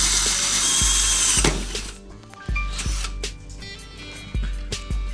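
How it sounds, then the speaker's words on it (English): A power drill bores a hole into the pod of a custom speed loader for retro mags, starting with a loud, steady whine that cuts out and gives way to scattered clicks and knocks as the part is handled. "After you make your hole with your drill"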